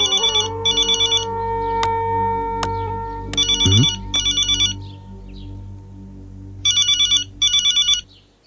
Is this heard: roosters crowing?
no